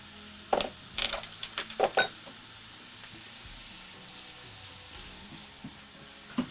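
Vegetables sautéing in a pan with salt and pepper for a tuna casserole, a soft steady sizzle broken by several sharp clattering stirs and utensil knocks near the start, then settling to a quiet hiss.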